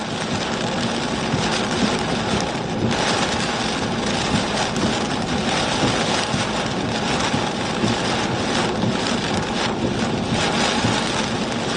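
Gusty storm wind roars steadily and loudly, a dense broadband rush with slight surges and no pauses.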